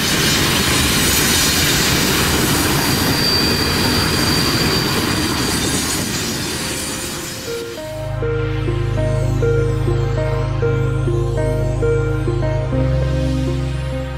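A Canadian Pacific train on a mountain line rumbles and clatters past loudly for several seconds, then steel wheels squeal in sustained tones as the cars roll on.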